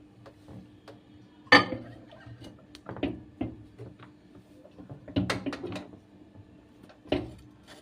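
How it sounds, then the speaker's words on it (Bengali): A microwave-proof bowl of chicken going into a microwave oven: sparse nearby knocks and clunks of the bowl and oven door, with a few sharper bangs between quiet pauses. "এবার আমি চিকেনটাকে মাইক্রোওভেনে দিচ্ছি।"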